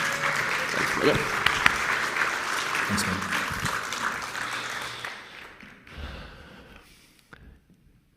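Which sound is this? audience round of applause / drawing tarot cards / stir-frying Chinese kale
audience round of applause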